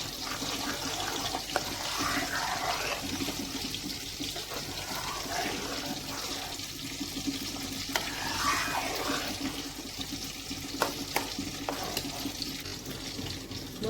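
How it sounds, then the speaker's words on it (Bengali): Strained raw green mango pulp cooks in a wok, giving a continuous bubbling, hissing sizzle with occasional scraping stirs, steady and fairly loud with no talking. "আমটা এবারে কড়াইয়ে বসিয়ে দিলাম, খুব স্মুথ হয়েছে"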